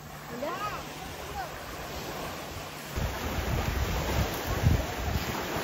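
Sea waves wash onto the shore at Havelock Island, a steady rushing surf mixed with wind buffeting the microphone, swelling louder partway through.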